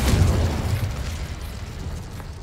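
Confringo fire spell blast in Hogwarts Legacy, a single loud booming explosion at the start that rumbles and decays over the next two seconds, with no voices.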